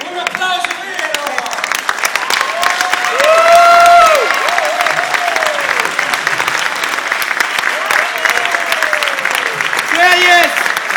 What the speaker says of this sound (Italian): Un applauso vero!